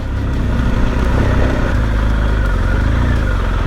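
Off-road motorcycle engine on a trail raid through Occitanie, a steady loud drone of the running motor held close throughout with no pauses or clear revving.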